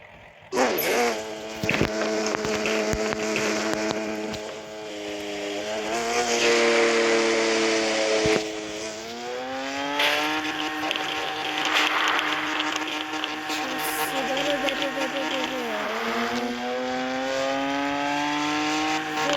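A modified car engine with an upgraded exhaust drives along a road, droning steadily and loudly with rising and falling revs as it accelerates and shifts, close and continuous throughout.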